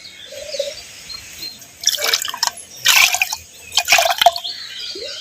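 Water splashes and dribbles into ragi porridge in a few separate bursts of pouring and dripping, fairly close, with quiet gaps between pours and no talk.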